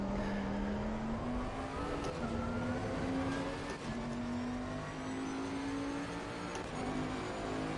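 Race car in a sim racing game at Spa 24 hours, a continuous engine drone rising steadily in pitch as it accelerates through gears, loud and even with tire and wind noise beneath.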